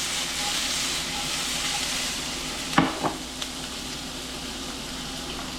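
Garlic fries in a pan with a steady, close hiss and sizzle, and a brief clatter and scrape partway through as the pan is flipped.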